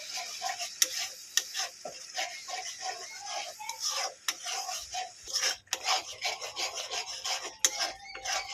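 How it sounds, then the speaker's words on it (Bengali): Spices and yogurt being stirred and mixed together in a pan, with a spoon scraping and rasping in repeated strokes and sharp clinks against the metal, fairly faint and close. "ভালো করে আবারও মশলাগুলো একসঙ্গে মিশিয়ে নেবেন"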